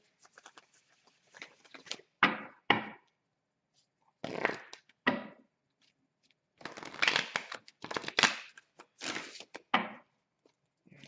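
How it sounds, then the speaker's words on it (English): A deck of oracle cards shuffled by hand during a tarot-style reading, several close, crisp bursts of riffling and sliding separated by short pauses, with no talking. "Let's get a good shuffle here."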